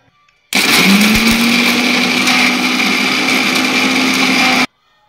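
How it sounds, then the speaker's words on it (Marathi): An electric kitchen mixer grinder whirs steadily as it grinds a paste of fresh coconut, peanuts, garlic, green chillies and coriander, starting abruptly, holding a constant loud high-pitched motor drone for about four seconds, then cutting off. "आता हे वाटण आपण मिक्सरमधून बारीक काढून घेऊ।"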